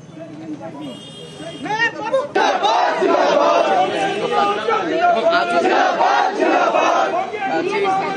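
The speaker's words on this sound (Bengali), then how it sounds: "মেয়র পুরসভায় ঢোকার সময় প্ল্যাকার্ড হাতে স্লোগান দেওয়া হয়।" Protesters from Bangiya Hindu Mahamancha holding placards shout slogans at Siliguri municipality as the mayor enters, a loud crowd of overlapping chanting voices swelling after a quieter opening.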